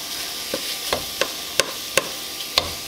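Hamburger meat browning in a pan, a steady sizzle of frying under regular utensil taps and scrapes as it is stirred, about one stir every half second, close and clear.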